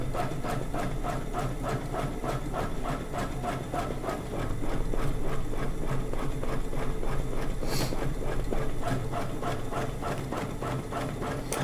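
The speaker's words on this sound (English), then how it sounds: "And now we'll do our basting stitch." A computerized sewing machine running a long basting stitch, its needle chattering in a fast, even mechanical rhythm with a low motor hum, close and continuous.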